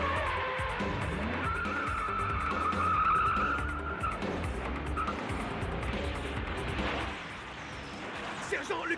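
A Corvette races and skids through a chase in a 1989 anime, tires squealing over a constant roar of engines and action noise, with voices talking over it.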